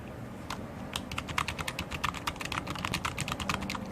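Rapid, crisp keystrokes clatter on a budget Gearhead mini keyboard, a close, continuous run of plasticky clicks with uneven rhythm and no speech.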